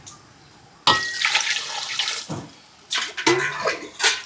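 Water pours suddenly into a cooking pot, splashing and gurgling for a couple of seconds, then comes in a few shorter bursts with pauses between.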